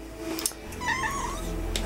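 Cat meowing once in a short, close, wavering call, with faint clicks and background hum around it and no talk.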